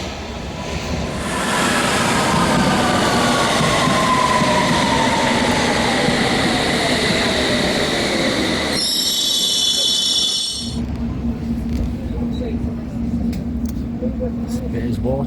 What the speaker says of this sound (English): This is a Circle Line train to Edgware Road.